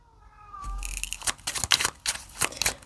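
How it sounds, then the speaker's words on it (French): A house cat gives a faint, brief meow at the start, followed by louder close scratching and rustling noises in uneven bursts. "Ah là là, mon chat, il recommence."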